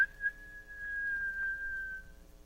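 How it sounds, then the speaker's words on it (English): One shrill, steady whistle holds a single high pitch for about two seconds, clear and close against a quiet background. "He pushed it open and gave a shrill whistle."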